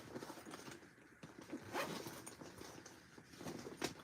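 A zipper on a sewn tote bag pocket being worked, soft rasping pulls in a few short strokes, quiet and close with no talk.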